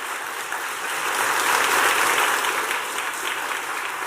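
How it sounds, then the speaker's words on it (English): Sustained audience applause from a seated crowd at a teachers academy welcome event, dense and steady throughout, swelling slightly in the middle before holding level. "please give her a round of applause"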